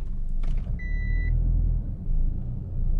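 A car engine idles and rumbles in reverse gear, with a brief high electronic tone near the start, a steady close low drone throughout.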